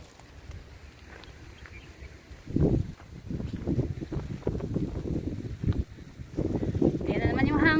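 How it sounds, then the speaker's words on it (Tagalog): Wind buffets the microphone in uneven gusts on an island hike, rising and falling with low rumbling bursts, while people talk nearby. "Ayan na naman yung hangin."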